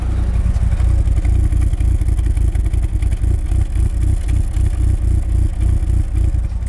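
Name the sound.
car engine revving with stock exhaust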